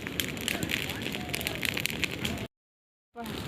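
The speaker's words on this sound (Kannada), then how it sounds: "ಅಲ್ಲಿ ಮತ್ತೆ ಬೆಂಕಿ ಇಟ್ಕೊಂಡಿದೆ ನೋಡಿ" A roadside fire near Siggudal burns with a steady crackling roar. It is heard close and fairly loud for a few seconds, then drops to a brief silence before resuming.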